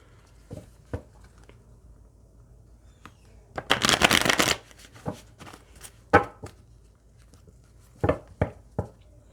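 A deck of tarot cards is shuffled at close range, with soft scattered flicks building to one dense riffling burst and then further short card snaps against quiet.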